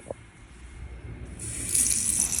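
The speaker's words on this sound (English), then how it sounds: "Run every faucet, hot and cold water." A faucet running during a final home walkthrough, first a faint trickle, then water gushing steadily and growing louder toward the end, with no talking.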